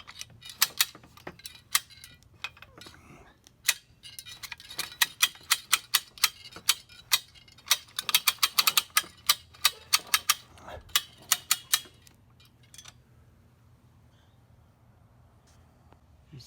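Ratcheting clicks from a hand-cranked winch raising and lowering a 1.5 inch pipe pole set at 5 feet, a rapid irregular series of sharp mechanical ticks that grows denser midway, then stops, leaving a low hum.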